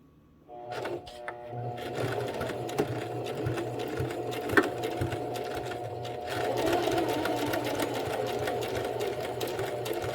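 A sewing machine stitches a fabric hem in a continuous close, rattling whir with a steady mechanical hum, running throughout after a brief start and growing slightly louder partway through.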